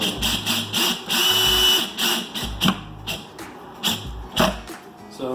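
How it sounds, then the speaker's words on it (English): A power drill drives screws into an IKEA Sektion base cabinet, whirring in repeated short bursts, starting and stopping close by, with clunks and rattles of work between runs. "just grab the drill, grab your screw, and find your marked hole,"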